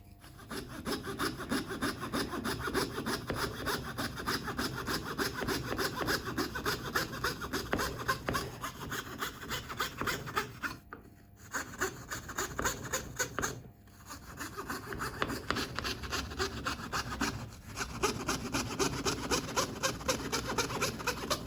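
Hand saw cutting wood for an electric bağlama fingerboard, a fast, steady back-and-forth rasping close up with a few brief pauses between strokes.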